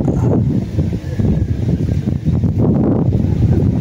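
Strong northeast monsoon wind buffets a small fishing boat at sea, a loud steady low roar and rumble with gusty swells and no clear voices.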